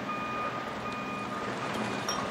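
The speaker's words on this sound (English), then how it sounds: "the trucks will essentially tip up and dump recyclables" A recycling truck at a recycling center tipping floor gives a steady run of reversing beeps over a constant engine and machinery rumble, loud and close throughout.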